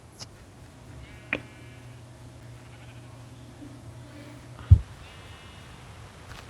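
Two faint, brief sheep bleats from a Minecraft game sound over a quiet humming background, the second a bit stronger, spaced several seconds apart.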